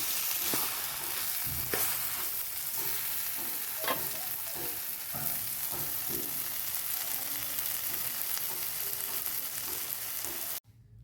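Spinach cooking with small prawns in a pan gives a steady loud sizzle and frying hiss with soft stirring scrapes, continuous throughout with no talking, then it cuts off abruptly at the end.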